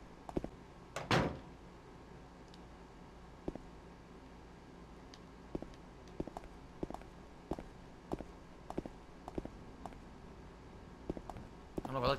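Locked doors in Silent Hill 2 rattle and thump in a series of short, sharp knocks, evenly spaced and fairly quiet, against a low background hum.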